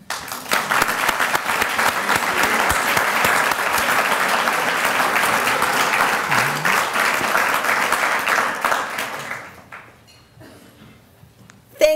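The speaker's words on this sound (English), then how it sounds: "Let's show our appreciation for Joanne and everyone else here this evening from Emeritus with our applause" Sustained audience applause at an evening event, full and steady clapping from a large crowd for about nine seconds before fading into a quiet hall.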